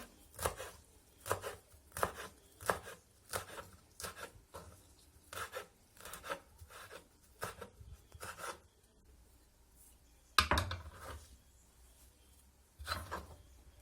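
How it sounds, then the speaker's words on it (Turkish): A knife taps steadily on a cutting board, quick regular chops finely cutting salad vegetables, close and fairly quiet, with a brief pause before a few final strokes. "Tanelerimi de aynı şekilde ince ince doğruyorum."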